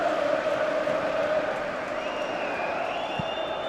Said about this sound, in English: Sunderland fans are cheering